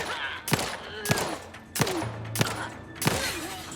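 Five loud pistol shots from the video game The Outer Worlds, fired at a steady pace roughly every half second to second, each a sharp crack with a short tail, close and in the foreground.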